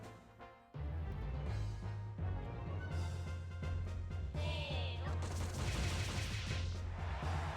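Seed Gatling attack in the Monster Rancher 2 DX video game, a rapid burst of repeated gunfire-like shots with a low synthesized rumble underneath, sharp electronic effects layered in, loud and continuous after a sudden start.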